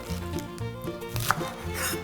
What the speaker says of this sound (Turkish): Ispanağın saplarını kesip iri iri böyle doğrayabiliriz.